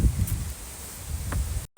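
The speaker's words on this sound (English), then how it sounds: "It's so windy and cloudy today." Gusty wind buffeting the microphone in low rumbling bursts on a cloudy day in Flensburg, Germany, with faint rustling, cutting off abruptly near the end.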